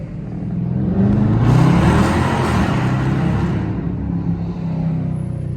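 Dodge Charger R/T engine revving loud and close, a deep rumbling roar that swells to a sustained peak and then settles back into a throaty idle-like growl.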